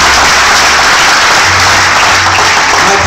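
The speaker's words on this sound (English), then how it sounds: "Let's give the Holy Ghost a clap." A church congregation claps together at a Living Faith International Ministries service, a dense, loud wash of applause filling the space steadily with no voice over it.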